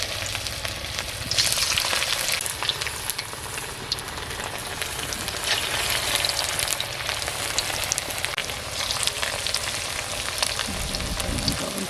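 Hot oil sizzles and crackles in a kadai, a steady, fairly loud frying hiss that swells and continues throughout with occasional stirring.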